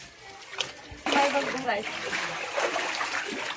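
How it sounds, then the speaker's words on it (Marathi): Water splashes and sloshes as it is bailed out of a flooded house, a sudden burst of splashing followed by continuous churning and trickling up close, with voices talking nearby. "पाणी असं काढायला पाहिजे."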